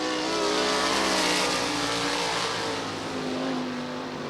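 305 Race Saver race cars roar around a dirt track during a heat race, a loud, continuous engine drone with a steady pitch and a slight swell as the cars pass.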